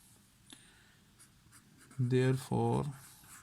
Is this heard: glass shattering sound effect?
no